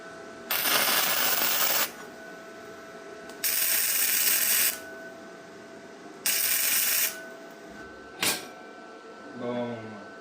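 Tack welding on a DIY steel motorcycle rack for a Yamaha TW200: three loud, sustained bursts of hissing, crackling arc noise, each lasting about a second, separated by quieter pauses, then a brief sharp snap and a faint clatter.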